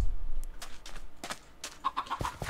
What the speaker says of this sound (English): Chicken, where are you?